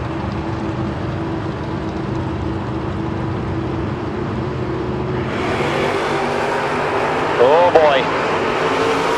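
A third-generation Camaro launches off a drag strip start line, engine droning steadily before a louder surge of power, with a brief announcer-style voice heard over the noise.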